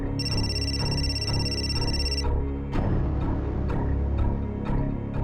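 A telephone rings in a steady electronic trill for about two seconds and then stops, leaving faint ticking and soft background tones.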